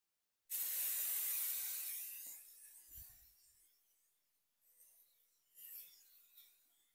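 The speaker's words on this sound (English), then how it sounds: "I'm going to spray this with our olive oil spray" Olive oil spray from a can misted onto a turkey pepperoni calzone: a sharp hissing burst of about two seconds that tapers off, followed by fainter short sprays, close and alone.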